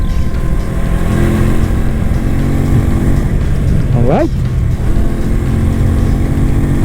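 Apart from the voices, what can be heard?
FKM Agimat 175cc motorcycle engine during test ride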